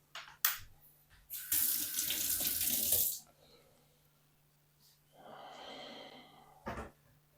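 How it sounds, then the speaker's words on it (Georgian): Water gushes from a kitchen tap for a pumpkin cream soup, one loud pour of about a second and a half and a shorter splash, with softer trickling and handling noises around it, no speech. "წყალი დასხმულია."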